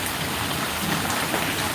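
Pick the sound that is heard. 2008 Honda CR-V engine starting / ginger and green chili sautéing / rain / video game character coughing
rain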